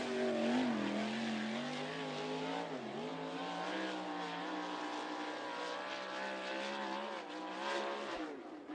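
USAC sprint cars racing a lap at Ocala during the Fall Festival of Speed, a loud, continuous engine roar with shifting pitch as the cars pass, no voices.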